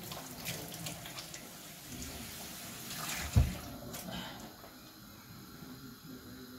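A kitchen sink tap runs steadily while water is splashed onto a face, a continuous soft rush with one brief louder splash near the middle, heard alone at moderate distance.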